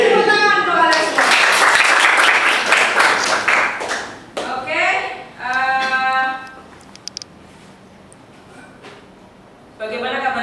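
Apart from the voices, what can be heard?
class applauding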